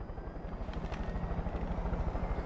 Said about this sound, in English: Helicopter does not have guns, but that's okay.